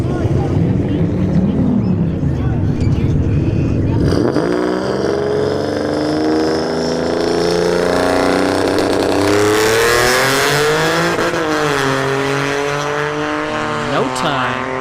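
A V6 S197 Ford Mustang engine at a drag strip starts loud and steady, then revs hard from about four seconds with rising, sweeping engine tones through the rest of the run, a brief shift dip near the end.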